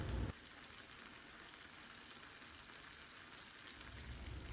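Tofu frying in a pan for a spicy braised stir-fry, a steady close sizzle and crackle throughout with no voices, briefly louder at the start and swelling again near the end.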